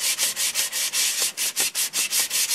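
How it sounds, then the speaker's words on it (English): Close, rhythmic hand sanding of an ABS plastic RC car body, a Tyco Baja Bandit shell, with the palm held flat: about a dozen steady, even rasping strokes, loud and alone. "Do a little bit more sanding in this area here"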